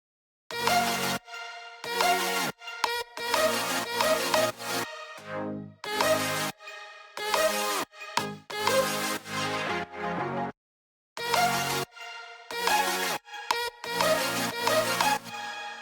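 Cut-up, layered vocal and chord samples in a track play as choppy rhythmic bursts separated by short gaps, loud and continuous for about sixteen seconds, with no talking.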